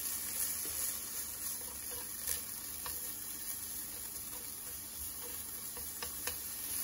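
Meat and shiitake mushrooms for ramen stir-fry in a pan with a low, steady sizzle and occasional light scrapes and taps of a utensil stirring, close and quiet, with no talk.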